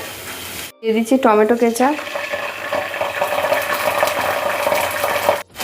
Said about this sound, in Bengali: তেল গরম হয়ে গেছে। আমি এবার এতে দিয়ে দেব রসুন কুচি। রসুনটা আমি একটু ফ্রাই করে নেব।